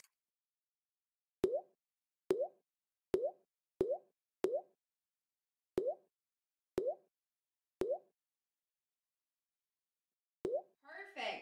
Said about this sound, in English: now we're going to want to scoop some of this cookie out, and you'll just want to Plop it right on the pan